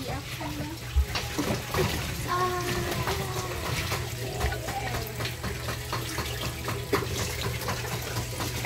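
Kitchen tap running steadily while vegetables are washed in the sink, a continuous close splashing gush with small clatters, and people talking now and then over the water.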